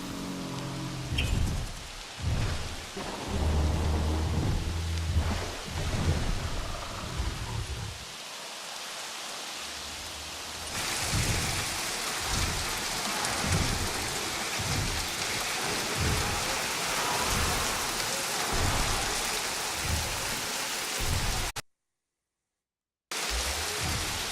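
Steady rain pours in the dinosaur park game Jurassic World Evolution, with rolling rumbles of thunder beneath; the first half carries some game music and effects, then a heavier, even rain hiss with repeated low thumps, ending in a brief dropout.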